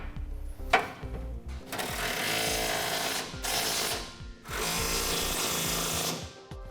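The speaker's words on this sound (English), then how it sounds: "Now we're ready to tighten down our 1/2 inch side plate bolts." A power tool drives the half-inch side plate bolts of a gooseneck hitch on a 2016 Ford F-350, with loud sustained whirring bursts separated by short pauses and clanks.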